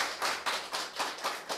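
Audience applause for the presenter and panelists at a public healthcare policy forum in Chungbuk, heard as a dense wash of clapping that swells in several pulses over a short stretch, moderately loud with no talking.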